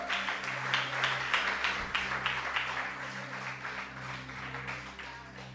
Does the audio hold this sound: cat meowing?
no